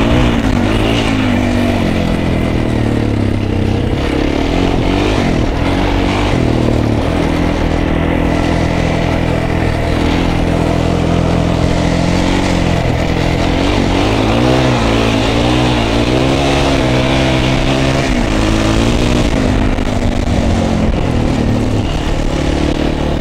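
A Kawasaki KFX 400 quad and MZ 150 ETZ motorcycles rev on hilly off-road terrain, loud continuous engine noise rising and falling in pitch as throttles are worked, with no talk.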